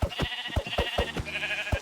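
A Minecraft sheep gives a rapid run of short, bright bleats in quick succession, close and clear with nothing else behind it.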